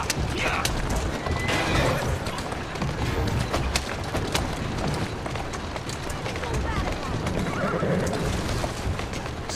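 A horse whinnies over a continuous busy clatter of galloping hooves in the video game Assassin's Creed Syndicate, with a voice talking alongside.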